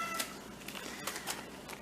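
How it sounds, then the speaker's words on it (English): A house cat meows faintly a few times near an art unboxing of embroidery floss skeins, short soft calls spaced through a quiet room. "My cat wants to help."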